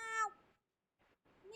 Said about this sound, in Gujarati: એ દેખાયો મિલાડો મોટો